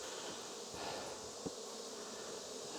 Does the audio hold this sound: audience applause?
no